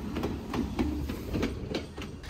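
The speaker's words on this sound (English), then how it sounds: "the long stairs, the train tracks, the passing trains," A train rolls past close by on tracks toward Machu Picchu, its wheels knocking in a steady clickety-clack rhythm over a low rumble.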